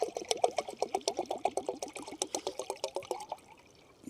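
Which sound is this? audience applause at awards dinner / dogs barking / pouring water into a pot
pouring water into a pot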